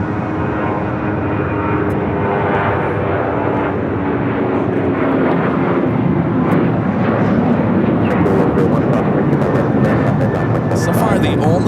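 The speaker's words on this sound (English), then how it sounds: "United Airlines 279 taking off to Tampa, Florida on the" A United Airlines Boeing 737-900ER takes off at Los Angeles International Airport, its engines a loud, steady roar that continues throughout, with someone talking over it.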